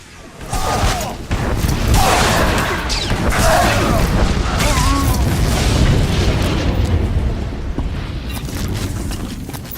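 Explosions from a bombing run boom in the Star Wars: The Old Republic video game, a loud, dense rumble that keeps going with overlapping blasts and whooshes.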